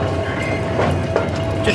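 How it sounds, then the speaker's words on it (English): A half-mile-long freight train rolls slowly into position, a steady rumble of wagons with faint wheel clatter and a brief squeal, loud and close. "he guides the half-mile-long train into position"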